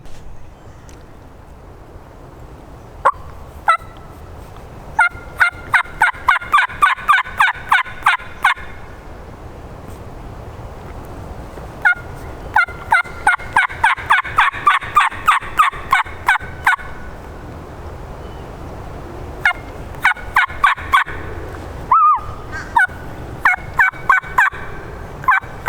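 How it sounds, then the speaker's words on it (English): A long-bearded wild turkey gobbles repeatedly in rapid rattling bursts, several separate volleys, moderately distant outdoors with faint background hiss. "A long-bearded gobbles behind her."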